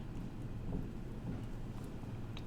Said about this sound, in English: The sizzle is hunger-inducing. Sounds like rain.